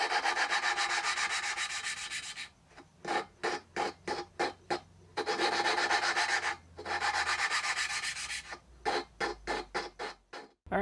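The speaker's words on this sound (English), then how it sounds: "just trying to see what the lapping process feels like and how much work each valve would need in order to make a better seal" Engine intake valves are lapped by hand against their seats, giving a gritty rubbing scrape in long steady strokes that alternate with runs of short, quick back-and-forth rubs, close and fairly quiet with no talking.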